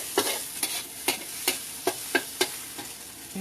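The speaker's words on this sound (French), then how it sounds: "On brouille les œufs dans la poêle." Eggs scrambled in a frying pan at a restaurant in Thailand, a utensil scraping and tapping the pan in a regular rhythm of about eight strokes over a soft background sizzle, close up, no talk.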